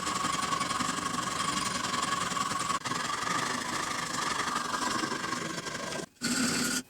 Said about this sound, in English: The belt sander makes light work of removing all the scratches